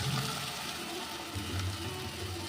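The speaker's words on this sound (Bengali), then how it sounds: "এবার দিয়ে দেব কাপখানেক দুধ" A cup of milk is poured into cooked, oil-released masala in a pan, giving a continuous close wash of pouring and bubbling liquid throughout, with no talk.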